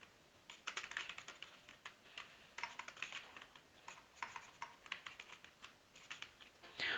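Fingers type on a computer keyboard, a quick, irregular run of quiet, close key clicks in short bursts with brief pauses and no speech.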